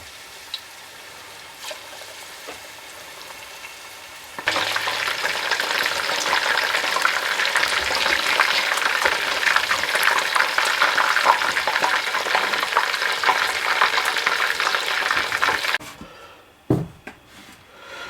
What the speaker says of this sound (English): And we continue cooking the chicken until the chicken's all cooked.